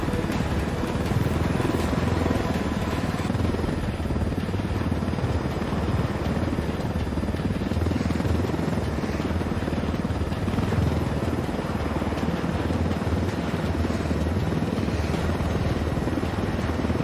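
Helicopter flying in the video game Ghost Recon Wildlands, a steady loud rotor thrum and engine roar sustained throughout without pause.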